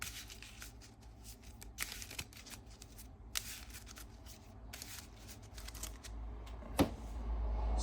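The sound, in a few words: shuffling a deck of cards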